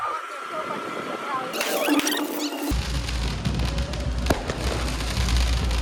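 Diwali firecrackers crackle and pop in the distance, with a whistling rocket and a sharp bang amid steady background noise of a busy night in the city.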